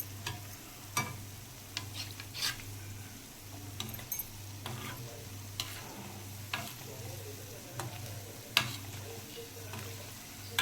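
Gulgule, fritters made from jaggery and wheat flour, fry in hot oil with a steady bubbling sizzle close by, and spoon clicks and scrapes now and then over a low background hum, with no talking.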